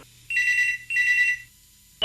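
A telephone rings in two long bursts separated by a short pause, then falls silent.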